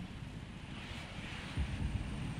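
Jet aircraft engines roar steadily in the video game Just Cause 3, a broad rumbling drone that swells slightly near the end, with no talking.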